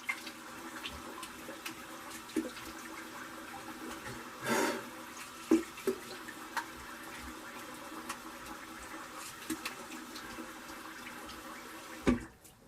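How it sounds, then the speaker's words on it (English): Tap water runs steadily at a sink as someone rinses shaving alum from their face, a close, continuous wash of splashing with occasional louder splashes and no talk. "So let me rinse this alum off my face."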